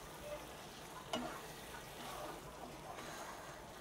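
Goat brain fry being stirred and mixed in a pan, a soft, quiet sizzle with a sharp utensil knock near the start and gentle scraping, no talk.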